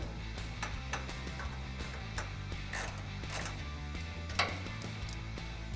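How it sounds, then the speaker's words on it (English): Ratchet clicking while bolts are tightened on an aftermarket heavy-duty rear bumper bracket of a 2007-2018 Chevrolet Silverado or GMC Sierra 1500, a steady run of fast mechanical ticks at close range, with no talk. "just use a ratchet to get around that"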